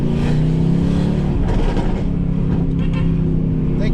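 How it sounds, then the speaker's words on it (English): A loud straight-piped, catless, tuned Mercedes-AMG C63 S exhaust rumbles and revs close by, a deep throbbing drone that swells and settles, with a voice briefly heard over it. "please judge my exhaust"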